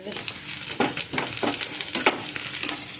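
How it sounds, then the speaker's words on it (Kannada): Garlic cloves frying in a pan for chicken curry, a continuous close sizzle broken by several scraping stir strokes, with no speech over it. "ಒಂದು ಗಡ್ಡೆ ಬೆಳ್ಳುಳ್ಳಿ ಚೆನ್ನಾಗಿ ಫ್ರೈ ಆಗಲಿ ಇದು ಫ್ರೈ ಆಗ್ತಿರಲಿ"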